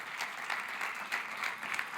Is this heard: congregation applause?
yes